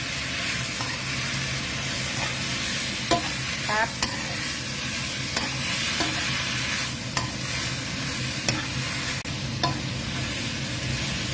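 Garlic frying in hot oil in a pan gives off a loud, continuous sizzle and crackle, with a few brief clinks and scrapes from stirring over the top and no one talking.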